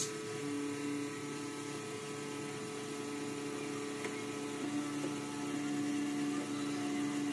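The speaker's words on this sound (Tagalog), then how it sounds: "So yun yung blower lang maingay." A cooling blower fan inside a Peavey powered audio mixer hums steadily with a faint whirring drone and mains hum, quiet and continuous throughout.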